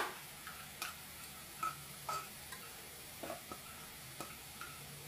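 Garlic frying in a pan while a base spice paste is being cooked, a quiet steady sizzle broken by soft scattered clicks and scrapes of stirring, with no voices.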